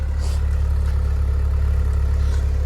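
A used car's engine idles steadily at the exhaust pipe, a loud, even low rumble recorded up close with no break in its drone.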